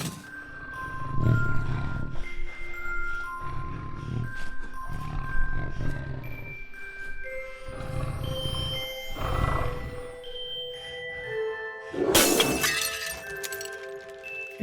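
A monstrous creature in a horror audio drama smashes through things in a cramped space, with heavy crashes, thuds and growling roars recurring over several seconds and a loud burst of shattering glass near the end.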